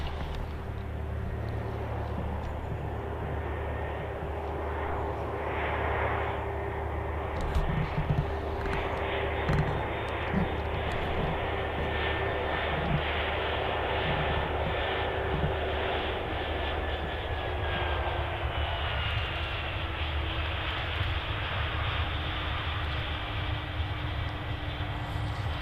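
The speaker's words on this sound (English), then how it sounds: "I can hear an aircraft" An aircraft landing at Manchester Airport gives a steady, continuous engine roar with a sustained whine, holding level and fairly loud throughout with no talk.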